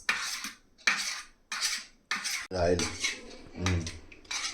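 An egg mixture for an egg and cheese curry is stirred in a bowl with a utensil, giving rhythmic bursts of clinking, scraping strokes up close. A voice speaks briefly midway.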